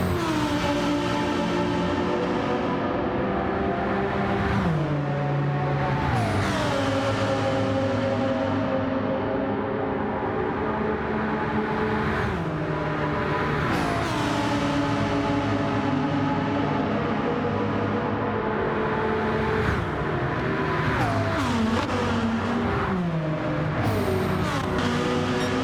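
Race car engine in Gran Turismo at the Nürburgring, a continuous loud whine rising and falling through gear shifts, braking and acceleration, with other cars nearby.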